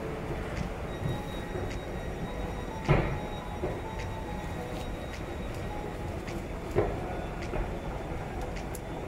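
A train sits at Brighton station with a steady rumbling hum, a couple of louder clunks and thumps, and faint voices in the background.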